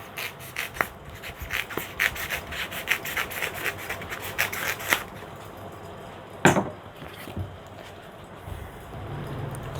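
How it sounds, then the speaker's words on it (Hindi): Foam for a Honda motorcycle seat cover being cut, giving a run of quick rasping strokes for several seconds, then a single sharp snap and quieter scraping, with no talking. "ये फोम है हमारे पास टेकी की, इसको काट देते हैं"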